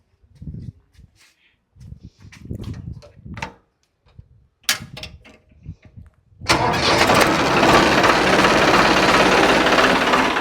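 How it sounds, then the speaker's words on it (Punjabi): Several short spoken exchanges, then a Farmtrac tractor engine cranks and catches in a Punjab village near Dhuri, settling into a loud, steady diesel rumble that runs to the end. "ਟਰੈਕਟਰ ਇਹ ਵੀ ਚੰਗਾ ਇਹਨੂੰ ਕਰਿਓ ਸਟਾਰਟ ਜੀ"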